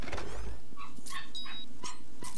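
A dog in the dungeon-crawler game Bormac's Infinite Dungeons gives short yips, barks and whimpers in quick bursts, close and clear, with no talking.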